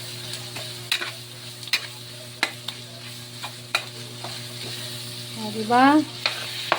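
Mung bean stew ingredients sauté in a pan with a steady sizzle, punctuated by sharp clicks and scrapes of a spatula stirring at irregular intervals, and someone speaks briefly near the end.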